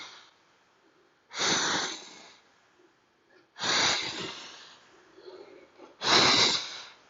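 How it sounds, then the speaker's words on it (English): Three forceful breathy exhales during a core workout, each lasting about a second and separated by quiet pauses, close and loud with no speech. "Big exhales here. Have to get it all out."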